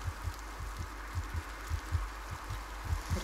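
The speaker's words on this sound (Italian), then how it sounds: "Perché ho il battito accelerato?" A fast, accelerated heartbeat in the horror game Among the Sleep thumps as low, muffled double pulses in a quick steady rhythm, close and fairly soft, with no talking.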